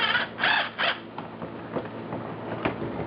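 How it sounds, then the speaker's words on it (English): A power driver sinks self-tapping screws into a Vintage Air Gen II Compac HVAC unit being installed in a 1976 Mazda RX-5 Cosmo, with a few short close whirring bursts followed by softer clicks and creaks. "I should just be able to shoot in a few self-tapping screws"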